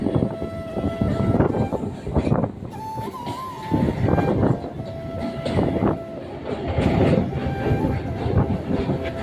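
A train taking a gentle curve on the Ranaghat to Shantipur route rumbles along the rails with rhythmic clattering bursts and a faint high whine, steady and close for several seconds.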